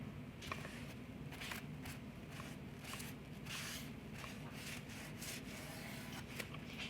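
Ink is rubbed onto the edges of paper home decor in quick repeated strokes, a soft close scratchy swishing in an even rhythm, quiet throughout with no talking.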